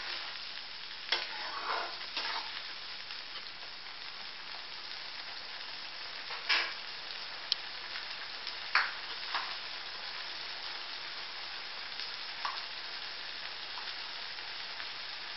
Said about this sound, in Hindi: अब इसका मसाला भूनेंगे अच्छे से, जब तक तेल नहीं छोड़ जाए मसाला, इसको भूनते रहेंगे।